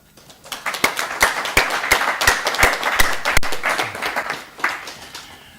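Councillors applaud in a council meeting chamber, a small group clapping with distinct, sharp individual claps in an uneven rhythm, building quickly and fading toward the end, fairly close and loud with no talk over it.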